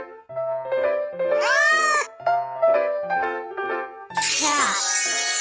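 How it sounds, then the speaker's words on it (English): A cartoon cat meows once in a Baby Bus children's video game, a bright rising-and-falling cry set against cheerful, steady background music. "Cat."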